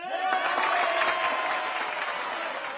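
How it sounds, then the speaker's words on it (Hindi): Audience applause breaks out for a speech in an Indian film, a dense, sustained clapping that fills the whole moment with a faint voice underneath. "हर डायलॉग पे ताली बजा रहे हैं।"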